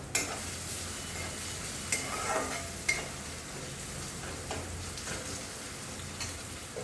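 Tomatoes sprinkled with salt fry in a pan for a sandwich, giving a steady soft sizzle with occasional scraping stirs, close up and without talk.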